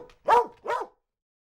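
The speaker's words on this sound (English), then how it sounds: "I awoke to the sound of the puppies barking." Puppies barking early in the morning: two close, clear yaps in quick succession, then silence, with no talk around them.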